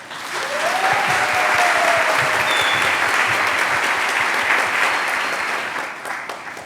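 An audience applauds a collaborator at a curatorial talk during the 35th São Paulo Bienal, a dense, steady burst of clapping that swells in quickly, holds for several seconds and fades at the end.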